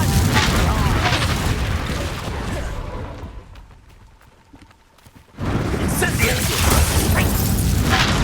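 A Confringo fire spell in Hogwarts Legacy bursts in a loud, booming explosion. The blast roars, drops away to a near-silent lull, then a second heavy boom erupts and rumbles on.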